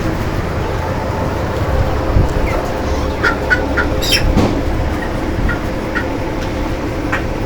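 Broiler chickens about 24 days old cluck in a poultry shed during intense heat. Scattered clucks and short calls rise over a steady background hum.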